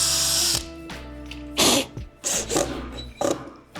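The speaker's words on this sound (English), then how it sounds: "I'm pre-drilling." A power drill pre-drills holes in wooden sauna boards, with a steady whirring run, a sudden stop, then several short loud bursts of cutting into the wood, close up and without speech.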